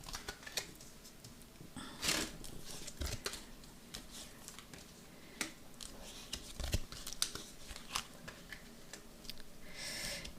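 Tarot cards being cut and laid out on a table make quiet, scattered paper snaps, slides and light taps at an irregular pace, close by, with no talking.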